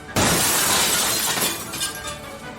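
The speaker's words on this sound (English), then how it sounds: "fell backwards, knocking over a life-size porcelain peasant boy riding an ostrich" A life-size porcelain statue of a peasant boy riding an ostrich shatters in one sudden loud crash, followed by scattering, tinkling shards that fade out.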